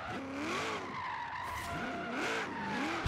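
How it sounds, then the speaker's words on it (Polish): Car drifting in Forza Horizon 3, a sharp corner taken sideways with sustained tire squeal rising and falling in waves over engine drone, ending in a sudden loud thump. "spróbujmy porobić jakieś drifty."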